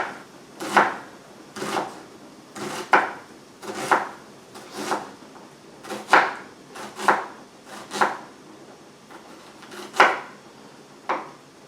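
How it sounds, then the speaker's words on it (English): A knife chops food on a cutting board in about a dozen separate sharp strikes at an uneven, unhurried pace, close and clear, with no talking. "And then I'm just going to chop."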